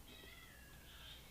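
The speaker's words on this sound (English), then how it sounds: "The cat's meowing nonstop." A cat meows faintly in the background, a thin drawn-out cry, with no talking.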